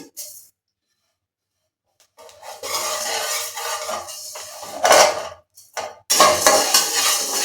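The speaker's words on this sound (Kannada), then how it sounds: "ಸೋಂಪು ಹಾಕ್ತಾ ಇದ್ದೀನಿ." Fennel and cumin seeds dry roasting in a pan, stirred with a spoon in repeated scraping, rattling bursts that scrape against the metal, loud and close, with a quiet pause near the start.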